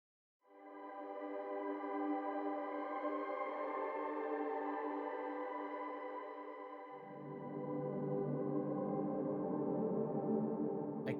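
Spitfire Albion V Gypsy pad patch sustaining a warm, evolving drone: a smooth harmonic chord swells in and holds, then deepens as a lower register joins partway through, continuous and fairly loud with no talking.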